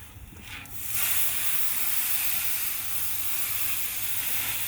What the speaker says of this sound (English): I'll put water on here, soak that in, and I'll take my spatula and I'll just go back and forth like this